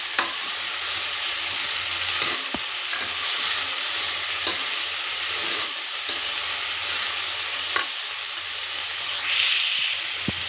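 Onions sautéing for a fish head curry, a steady close sizzle and frying hiss with occasional stirring scrapes and clicks of a spoon against the pan, continuous throughout with no talking.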